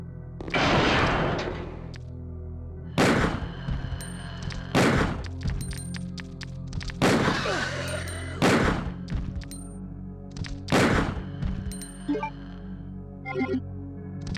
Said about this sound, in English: let's switch to the Magnum. We got 7 shots on it.